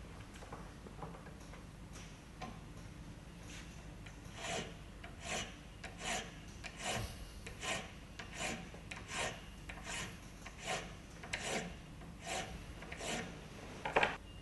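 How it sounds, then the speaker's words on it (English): Metal piston coupler held in a vise being filed by hand, a series of steady rasping strokes in an even back-and-forth rhythm, close and moderately loud, with a faint background hum. "put it in the vise, do it up, and start filing back the other way"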